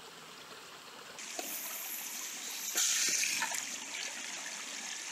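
Water pours steadily from the outlet of a homemade ram pump outdoors, a soft continuous trickle and splash with slight surges, heard close at low level.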